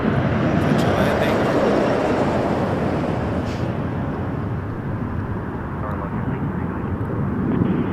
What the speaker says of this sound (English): And while we're here, catch a landing.